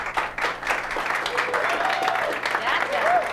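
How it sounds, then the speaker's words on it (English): An audience applauds a speaker at a finance talk, a steady spread of clapping lasting a few seconds, with a voice briefly audible over it. "Give him a big round of applause. Come on, a little more for him."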